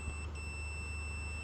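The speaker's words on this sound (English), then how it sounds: "When you touch the leads, the meter will beep" A multimeter in continuity mode gives a steady, unbroken beep as its test leads touch during a fan-motor check, held at moderate volume over a low electrical hum.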